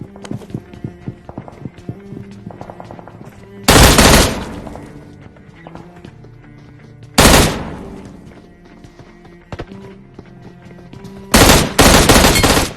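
Three loud bursts of automatic gunfire from the video game PUBG Mobile stand out over a quieter bed of game sounds, clicks and footsteps in a busy match.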